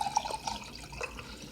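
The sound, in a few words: hot water being poured for mandarin tea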